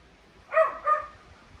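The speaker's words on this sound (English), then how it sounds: "Dog's barking" A dog gives two quick barks close by in a garden, one right after the other, in an otherwise quiet space.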